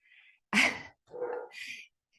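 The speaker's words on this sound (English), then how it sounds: "I don't know if you can hear my dog barking." A dog barks in a few short bursts, one loud sharp bark standing out among fainter yips and whines, close by with no talking over it.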